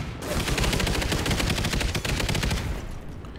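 Light machine gun in Call of Duty: Ghosts firing a long, rapid, continuous burst of loud, close shots with a dense rhythmic rattle, tapering at the end.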